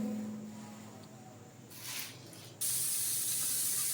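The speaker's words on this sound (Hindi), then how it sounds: "चिकन को आपने 2 से 3 मिनट तक लाइट सा फ्राई कर लेना है।" Chicken pieces fry in a pan with two spoons of oil, giving off a steady close hiss that swells partway through and then jumps into a louder, bright sizzle that continues to the end.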